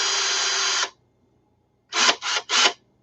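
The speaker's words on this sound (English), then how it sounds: "Where's the drill?" A power drill whirs in one sustained burst of almost a second, then after a pause gives three short quick pulses, all close and loud with no voices.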